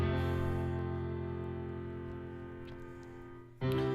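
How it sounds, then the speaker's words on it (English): Grand piano layered over a sustained organ in a cheerful soundtrack section, a soft held chord slowly fading before a fresh chord enters near the end. "which is then layered by this grand piano sound"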